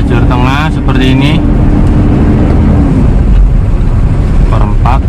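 Cabin of a 2002 Toyota Kijang LGX 2.0 EFI on the road in a middle lane, a steady loud engine and road drone throughout with someone talking over it near the start and end.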